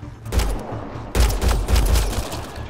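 Gunfire in Mass Effect: Andromeda crackles in two loud, dense volleys of rapid shots with booming low thuds, the second volley heavier and sustained.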